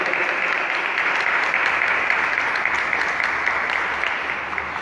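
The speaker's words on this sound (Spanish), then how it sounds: "Un aplauso para el glorioso patriarca San José." Steady applause from a congregation at a Mass, a dense continuous patter of clapping that fades slightly toward the end.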